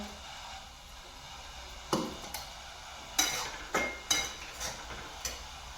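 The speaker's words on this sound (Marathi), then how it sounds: "छान असं बेसन भाजलंय" A spoon scrapes and clinks against a pan while gram flour (besan) roasts in ghee, several distinct stirring strokes at uneven intervals over a faint steady sizzle, close and fairly quiet.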